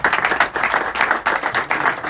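A small crowd claps steadily for the boxers at a boxing weigh-in ceremony the night before the fights, a brief dense burst of hand claps with no talk.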